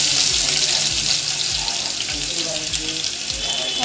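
Water pours steadily into a pan while spinach paneer is being cooked, a loud, continuous splashing rush with faint sizzling underneath, with no talking over it.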